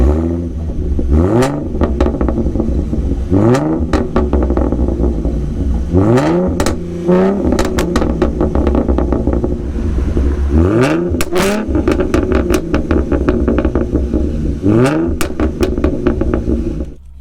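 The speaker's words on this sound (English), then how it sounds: "That's how my car sounds." A car fitted with a Roush axle-back exhaust revs loud and close, its engine note repeatedly climbing and falling in several sharp bursts over a steady idle rumble.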